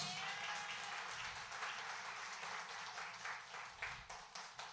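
A church congregation applauds during a sermon, a soft, fairly distant patter of many hands that rises into a few sharper bursts toward the end.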